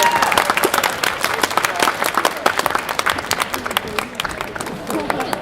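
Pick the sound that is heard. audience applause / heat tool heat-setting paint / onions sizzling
audience applause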